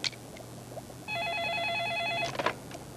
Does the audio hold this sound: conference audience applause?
no